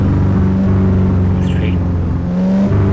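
A car engine rumbles and hums loudly from inside the cabin during a driving lesson, rising slightly as gas is applied through a slow left turn, with a brief faint voice.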